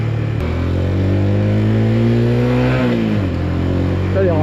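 A Benelli Leoncino 125 motorcycle revs through short gears while riding, a loud engine note climbing in pitch, dropping at a shift, then rising again, with wind rush throughout.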